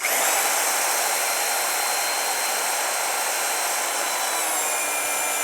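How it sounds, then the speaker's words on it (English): A power drill turning counterclockwise to prime a race car engine's oil pump whirs continuously at a steady, loud pitch, a constant high mechanical drone with no pauses. "I've got my drill going counterclockwise"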